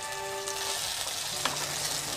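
Chicken pakora deep-frying in hot oil, a dense continuous sizzle and crackle close by, with faint tonal hum and a small splash of bubbling partway through.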